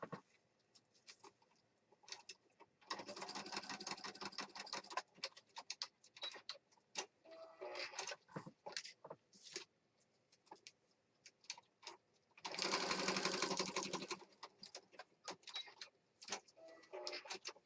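A sewing machine stitches pages for a planner journal kit, running in two sustained rapid whirring bursts separated by scattered quiet clicks and handling noises, fairly faint overall.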